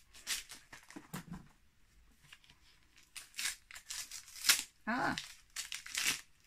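A taped-up gift package being torn open by hand, with repeated bursts of ripping and crinkling of paper and tape, close and fairly loud, mixed with brief speech.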